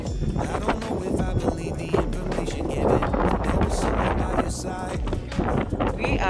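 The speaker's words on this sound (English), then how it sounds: "It's really cold and windy." Strong wind buffets the microphone on the cold slope of Pacaya Volcano, Guatemala, in constant gusty roaring, loud and close, with no clear voices over it.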